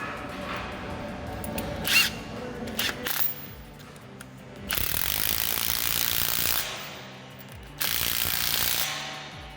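A Milwaukee 1-inch D-handle impact gun tightens a 1.5-inch pipe cap in a pipeline setting, giving two long, loud, buzzing bursts of hammering after some lighter clicks and handling noise, with no talking.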